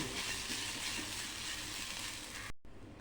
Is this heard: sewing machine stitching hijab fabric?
no